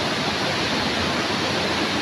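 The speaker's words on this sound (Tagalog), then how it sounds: "May tubig na umaagos galing sa loob." Water pours steadily out of a hole in a rock face at Wawa Dam, a dense, continuous rushing and splashing that stays loud and close for the whole stretch, with no voices over it.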